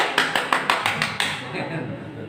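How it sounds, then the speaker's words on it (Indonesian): A run of about seven sharp hand claps at an even, quick rhythm, used as a signal to the imam during prayer, followed by someone speaking. "Dengan isyarat tepuk, tepuk tangan."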